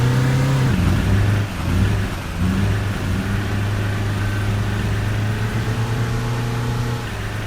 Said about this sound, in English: the audio and engine noises and stuff were drowning me out